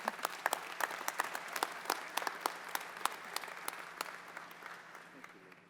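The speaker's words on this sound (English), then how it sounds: "Let's give Ivy and Leslie a round of applause once again" Applause at a graduation ceremony for associate's degree graduates: a hall full of hands clapping steadily, a dense patter that slowly fades toward the end.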